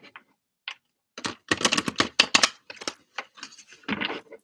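Tarot cards riffled and shuffled by hand, giving a run of quick papery clicks and flutters in bursts of varying density, close and fairly quiet with no speech.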